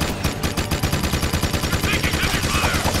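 Rapid gunfire in the Jak 2 video game, a dense run of repeated shots in a steady automatic rhythm with other game effects layered in.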